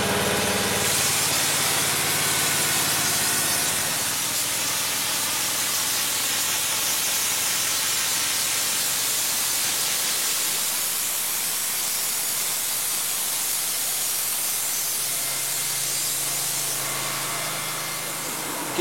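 A pressure blaster sprays a mix of water and sand in Marseille, giving a loud, continuous broadband hiss with an engine-like rumble that holds steady nearly throughout, easing slightly at the very end.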